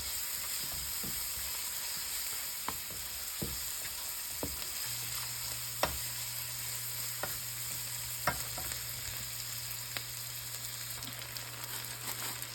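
Onions and mint frying together in a pan for an okra and tomato stew, with a soft, continuous sizzle and scattered clicks of a spoon against the pan; no voices.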